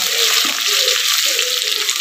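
Garlic hits hot oil for a spicy Khandeshi khichdi, giving a steady, close hiss of frying and sizzling that runs without pause and with no voices.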